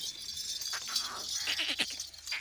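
Goats bleat on a goat farm with breeder goats, several soft, wavering cries overlapping at a moderate distance against a faint background hum.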